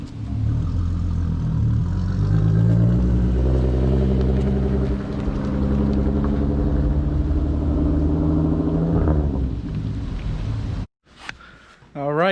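A vehicle engine idles and pulls a camper trailer around, a loud, steady low rumble that swells and fades before cutting off near the end, with someone talking over it.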